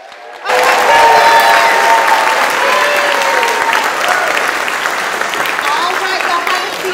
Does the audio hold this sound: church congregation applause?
yes